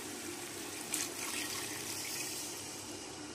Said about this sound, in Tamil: இப்போ நம்ம வந்து சிக்கன் வேகிறதுக்கு கொஞ்சோடு தண்ணி ஊற்றுறோம்